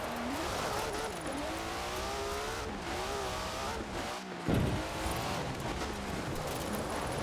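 Rally car fitted with a 2JZ engine in Forza Horizon 4, driving hard: a loud, continuous revving engine rising and falling through gear changes, with a brief drop and a sharp surge back to full throttle.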